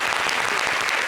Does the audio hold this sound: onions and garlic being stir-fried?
no